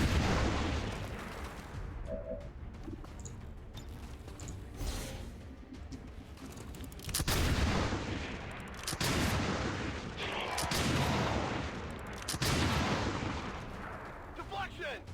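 Muffled video-game gunfire and booms from XCOM 2, several heavy shots and blasts spread across the stretch with ambient game rumble, a voice talking faintly underneath at times.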